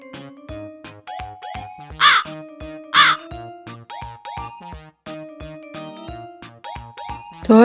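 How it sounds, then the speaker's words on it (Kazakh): A crow caws loudly in several harsh, rasping calls spaced a second or so apart, over a steady patterned musical backing, with a final loud caw at the end. "Қарға."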